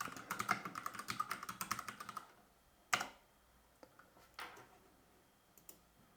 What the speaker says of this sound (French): on va taper Steam Windows Resources